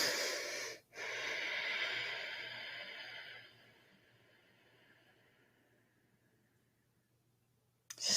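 Slow, unhurried breathing during a quiet meditation, a long soft airy exhale close to the mic that gradually fades into near silence before a faint new breath begins.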